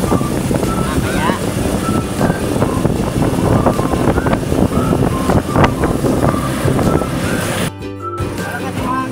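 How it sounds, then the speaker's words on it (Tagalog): Strong typhoon wind roaring into the microphone beside a highway during days of heavy rain and flooding, a constant heavy buffeting rumble throughout with voices faintly underneath. "Malakas yung hangin dito."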